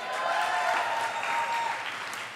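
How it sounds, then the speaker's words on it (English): Lively crowd applause at an open mic night for the hosts, a close, steady burst of many people clapping that stays full and even throughout, with faint voices mixed in. "Can we get a round of applause for our amazing open mic hosts?"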